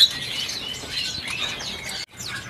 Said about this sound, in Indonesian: Ini stok burung cucak hijau ya?